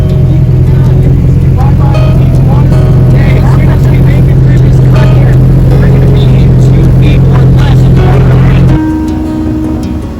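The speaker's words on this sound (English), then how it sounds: "when the boat goes it's loud" Airboat tour boat engine roaring loudly across the Florida Everglades, a steady droning rumble that holds for several seconds before dropping off near the end.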